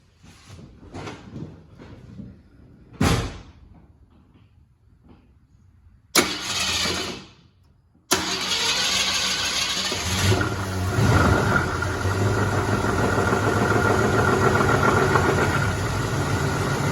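After an oil change, a few clunks and thumps lead to a car engine cranking and catching, then settling into a steady, close idle that runs on for the rest of the clip.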